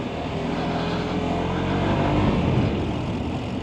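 An RKS Reale motorcycle engine revs close by, a loud continuous drone that rises slightly in the middle and settles back, with no other sounds over it.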